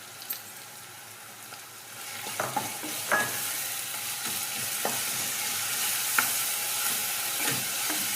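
Garlic paste and green chillies sautéing in a pan for a double bean kurma: a steady frying sizzle that swells after a quiet start, broken by scattered scrapes and clicks of stirring.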